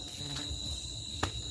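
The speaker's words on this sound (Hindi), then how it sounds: "इतना मधुमक्खी कहाँ से आ गया नितेश?" Bees swarming close by, a steady dense insect buzz running through the whole moment with a brief sharper knock near the end; no talking.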